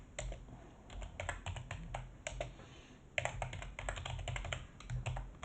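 Typing on a computer keyboard while writing code: quick bursts of close, crisp key clicks separated by short pauses, fairly quiet, with no voices.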